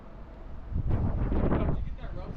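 Strong gusting wind battering a microphone outdoors while exploring, a rumbling, roaring buffet that swells in the middle and stays loud, with no talk.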